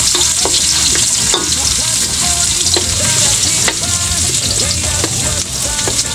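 Garlic and onion sizzle loudly in hot oil in a pan, with steady frying and intermittent stirring clacks throughout.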